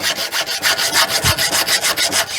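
A file rasps back and forth across a blunt chainsaw chain to sharpen it, about a dozen even, rhythmic strokes, loud and close.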